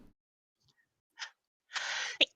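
A single sharp sneeze, preceded by a short breathy intake and a brief hiss, in an otherwise quiet room.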